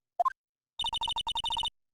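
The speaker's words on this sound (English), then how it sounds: "You pressed redial on that phone, didn't you?" In the Phoenix Wright: Ace Attorney video game, pressing redial on a phone brings two quick rising electronic beeps, then a rapid burst of clean synthetic ringing tones, loud and alone against silence.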